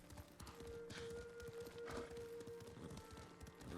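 Horse hooves clip-clop steadily in Ghost of Tsushima, a continuous mid-distance gait running through the whole stretch with a thin tonal hum beneath and no talk.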